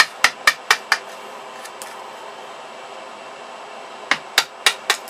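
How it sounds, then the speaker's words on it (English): A hammer strikes a wood chisel to pare away the thin top layer on a homemade pistol crossbow part: a quick run of five sharp close taps, a pause with faint room noise, then four more crisp blows. "And just keep chiseling it away."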